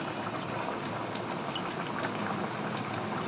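Chicken keema-stuffed aloo dum simmering in a pot as a little ghee goes in, a dense, even bubbling hiss filling the short stretch without any voices.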